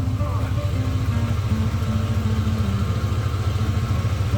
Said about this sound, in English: It's got some kind of Flowmaster exhaust on it or something, and a ridiculously annoying muffler.